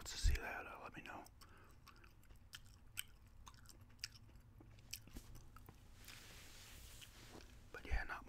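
Gum being chewed close to the mic with soft whispering, in an intimate ASMR-style ramble; faint wet chewing and small crunchy clicks recur under a low hush, with a louder burst near the start and end.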